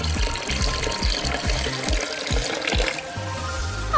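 Running water at a miniature DIY water park, a steady close splashing flow with rhythmic gurgling pulses, easing slightly toward the end.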